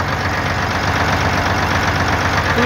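A small electric motor on a Bizon combine harvester runs close by with a loud, steady, unbroken drone.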